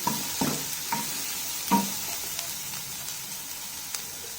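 Vegetables for egg fried rice frying in a hot pan, with a steady close sizzle and several sharp scrapes and clanks of a spatula stirring through it, no voices.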